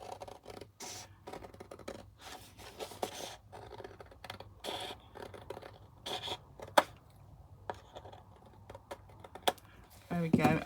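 Scissors snip repeatedly through a paper journal card, giving a run of crisp, irregular cutting and rustling noises that sound close and fairly quiet, with brief paper handling at the end.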